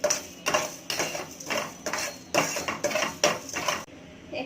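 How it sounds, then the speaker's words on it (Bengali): A utensil stirs rice in a metal pan, making rhythmic scraping clatters in bursts of about half a second, close and fairly loud, with no talking. "এই দেখো, চালটা নেড়ে নেব।"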